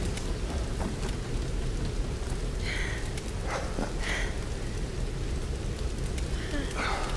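Steady rain in the Tomb Raider video game, a dense constant hiss throughout with faint scattered patters, and no clear talking over it.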